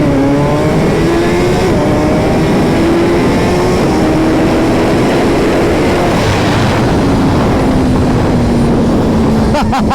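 Suzuki Hayabusa motorcycles race past, their loud, continuous engine roar rising and falling in pitch as they pull away, with crowd noise mixed underneath.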